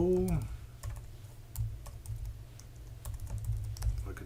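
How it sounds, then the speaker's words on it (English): Clicky keystrokes on a computer keyboard in a steady run of quick taps, close and fairly quiet, over a low background hum, with a brief tonal sound at the very start. "I could type."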